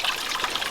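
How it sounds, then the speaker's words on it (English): Water splattering from a leaking garden pond waterfall spillway, a close, bright continuous trickle and spatter for a brief moment. "We're getting a lot of splatter from the waterfall."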